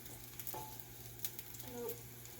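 Garlic fried rice sizzles quietly in a pan while being stirred and broken apart, a soft steady frying hiss with a few light scraping clicks of the utensil.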